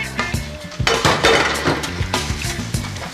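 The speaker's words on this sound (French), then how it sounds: "Faire la vaisselle." Dishes and cutlery clatter and clink as they are washed, a busy run of sharp knocks and chimes over music, close and continuous throughout.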